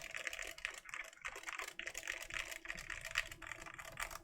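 Quick bursts of clacky keystrokes on a mechanical keyboard with a POM plate and no foam, close up and steady, with brief pauses between flurries of typing.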